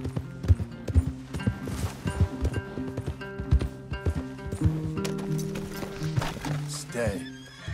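Horses in Red Dead Redemption 2 clip-clop with sharp hoof strikes and let out several whinnies, close and loud, while voices talk over the scene.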